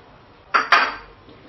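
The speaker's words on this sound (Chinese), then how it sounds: "把虾倒进来" Shrimp tipped into a pot for blanching give two quick metallic clinks and a brief clatter, close and fairly loud against a quiet kitchen.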